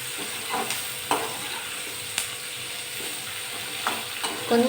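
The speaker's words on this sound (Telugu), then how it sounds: "కొంచెం నూనెలో వేగనిచ్చేసి వంకాయ ముక్కలు అండి" Brinjal pieces frying in a little oil in a pan for a tamarind fish curry, a steady close hiss of sizzling with occasional soft clicks and stirring scrapes.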